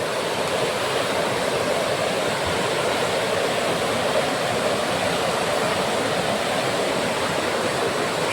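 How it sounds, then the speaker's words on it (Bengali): A waterfall below a rough rocky road, heard as a constant, dense roar of rushing water with no pauses, fairly loud and steady throughout. "সামনে বয়ে চলেছে ঝর্ণা, তার শব্দ শোনা যাচ্ছে রাস্তার উপর থেকে।"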